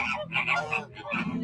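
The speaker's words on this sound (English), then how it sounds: "it sounds like geese" Geese honk at a zoo, several overlapping nasal calls in quick succession, fairly close and loud, with some mixed voices around them.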